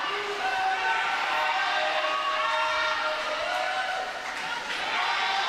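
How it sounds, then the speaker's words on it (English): Crowd and teams cheering loudly at a high school boys swimming meet between Champlin Park and Anoka, a steady dense roar of voices filling the indoor pool, with an announcer talking over it. "Teams getting loud as they cheer for their guys."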